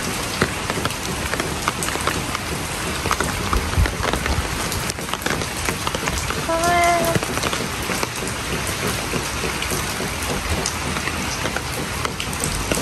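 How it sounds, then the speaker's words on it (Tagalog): Heavy rain pours steadily onto surfaces during a typhoon, a dense, continuous wash of drops mixed with gusty wind, with a brief faint tonal chirp partway through and no talking. "Tapos ngayon po ang lakas ng hangin dahil sa bagyo."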